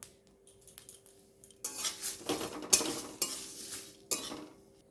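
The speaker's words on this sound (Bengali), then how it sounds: "গ্যাসের ফ্লেমটা লোতে দিয়ে আমি সুন্দর করে খুন্তির সাহায্যে নেড়ে নেড়ে ভেজে নেব" Whole spices for a jujube (kul) pickle dry-roast in a wok over a low flame, stirred with a metal spatula: quiet rattling and scraping that swells into busier tumbling strokes with sharp clinks near the middle and end.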